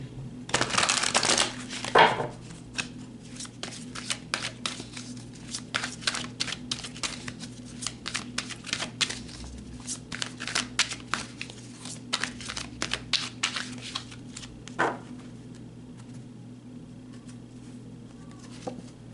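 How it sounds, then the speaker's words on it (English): Tarot cards shuffled by hand in a quiet room, a brisk run of riffling and flicking bursts with dense crisp clicks, loudest near the start and continuing in uneven clusters for the whole stretch. "let's pull some more cards"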